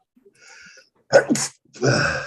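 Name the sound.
sneeze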